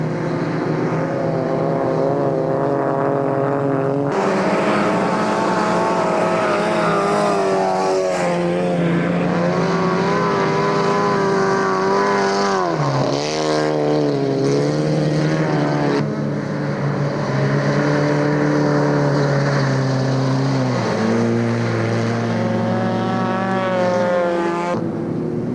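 A loud mid-engine, rear-wheel-drive race car, likely a Fiat X1/9, roars steadily up close on an ice racing track, its pitch rising and dipping as it revs through gear changes, with no voices.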